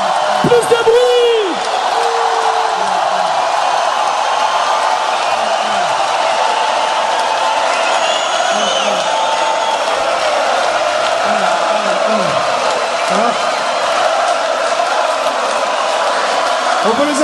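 Festival crowd at a live concert, a loud continuous roar of cheering with shouts and whoops throughout, while a voice calls out over the noise.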